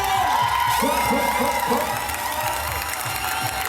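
Crowd at a dancehall 2vs2 dance battle cheering and shouting over loud music, with whoops and voices rising and falling throughout; clapping is not clearly distinct within the steady roar.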